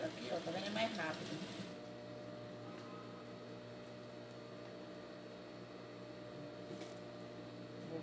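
A sewing machine stitches a seam on a face towel, a short, rapid whirring burst at the start, then the room goes to a low steady hum with faint background noise.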